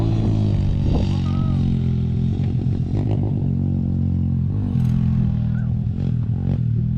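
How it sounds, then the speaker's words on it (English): A motorbike passes along a beach by an old rubbish dump, its mid-pitched engine note rising and falling over a steady roar of wind or surf, fairly close and continuous throughout. "I can hear a motorbike."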